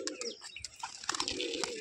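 Indian Turkish Tumbler pigeons give soft, brief coos and chirps in quick succession, close by and fairly faint over a light background hiss.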